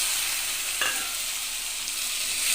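Country chicken sizzles and fries in a pan with sautéed onion, a steady loud crackling hiss with occasional scraping stirs, no voices.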